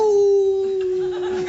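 A voice imitates the eerie howl of a unicorn with a long, sustained, wavering tone held close and loud, with audience laughter rising underneath toward the end.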